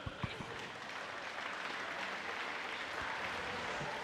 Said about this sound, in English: a round of applause for our 3 medal winners, Pernilla Lindberg, Jessica Jane Applegate